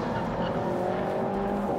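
A Renault Megane RS Trophy braking and cornering hard on a race circuit, its engine a steady close roar with a faint edge of tyre noise throughout.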